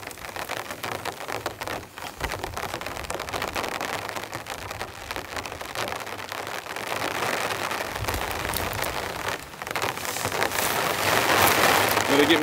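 Heavy rain drums steadily on a tent during a camping trip in a rainstorm with strong winds, a dense continuous patter that grows louder toward the end.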